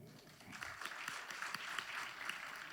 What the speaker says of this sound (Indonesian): beri aplaus dong